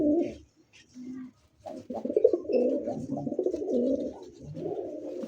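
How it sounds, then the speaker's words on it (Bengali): Red indigo Gorra pigeons with pink beaks coo in low, throaty, repeated rolling calls, close by and fairly loud, with brief pauses between bouts. "রেড ইন্ডিগো কালার মধ্যে কি ভাই গররা কবুতর নাইরা মাথা গোলাপি ঠোঁটের"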